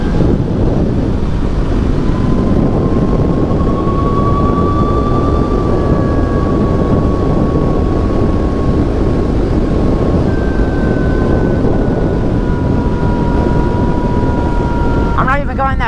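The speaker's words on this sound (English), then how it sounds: "I'm not even going that fast, the wind just sucks." Steady, loud wind buffeting roars across the microphone while riding on a hot day, a continuous broadband rush with a faint tonal whine drifting through it and no pauses.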